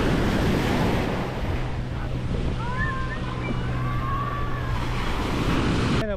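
Sea waves break and wash on the beach at Playa Mamitas, a continuous broad roar of surf with steady wind rumble across the microphone, and a few faint high whistling tones passing in the middle.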